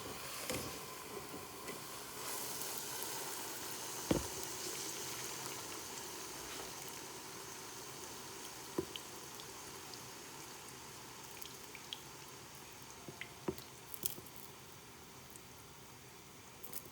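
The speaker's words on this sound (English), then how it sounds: "Just going to drain the grease." Greasy liquid is drained off a pan of cooked chili meat, giving a faint, steady watery trickle and hiss with a few light clicks, heard alone at low level.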